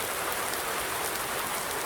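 Steady rain falling in a Farming Simulator 19 farm setting, an even hiss of drops on surfaces at moderate volume, continuous and alone with no voices.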